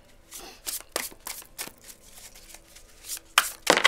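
A deck of tarot cards is shuffled by hand for a reading, giving a series of quick papery riffles and flicks, close and fairly quiet, ending with two sharper louder snaps.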